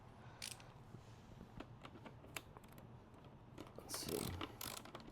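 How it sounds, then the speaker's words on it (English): A cheap ratcheting screwdriver working a stubborn bolt gives quiet, quick, uneven clicking in bursts, close by over low background noise. "These ratcheting screwdrivers are just the handiest things."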